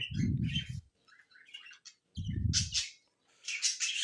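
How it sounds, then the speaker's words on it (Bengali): Pet lovebirds giving close, high chirps and tweets in short scattered bursts, mixed with a couple of low rustling thumps, moderately quiet with brief pauses between calls. "এই আমার পাখির অবস্থা"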